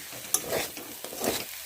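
Spinach frying in oil is stirred in a pan, with a soft, close sizzle broken by a few quick scraping strokes of the spatula.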